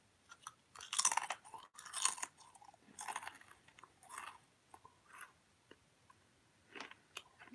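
Close, quiet crunching of food being chewed in a series of separate bites and chews, with small pauses between them.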